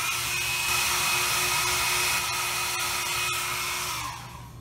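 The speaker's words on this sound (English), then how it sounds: "Then you can use a heat gun or even a hair dryer just to shrink it." A heat gun shrinking heat shrink tubing blows with a steady whirring hum at close range for about four seconds, then winds down and fades.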